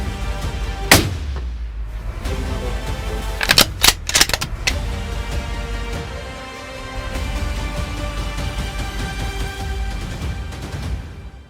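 Gunshots during a hunt in New Zealand: one sharp, loud report near the start, then a quick cluster of several shots a few seconds later, all outdoors over steady background noise with no talking.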